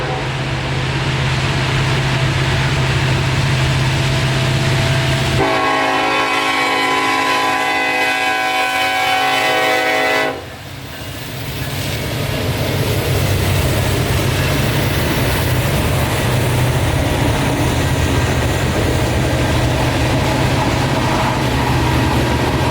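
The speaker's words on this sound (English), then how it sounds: "The one train that we could catch here was Norfolk Southern Mixed Freight Train 18M" Norfolk Southern mixed freight train 18M, a daily freight, rolls by loud and near, sounding a long multi-note horn for several seconds amid the continuous heavy rumble of locomotives and freight cars.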